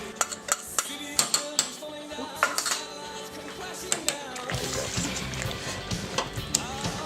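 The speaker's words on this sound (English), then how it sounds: "It sounds kind of gross when you're mixing it" Tuna pasta is mixed with cheese in a pan, giving repeated close clinks and scrapes of a utensil against the pan, then a denser, wetter churning stir, with faint talk in the background.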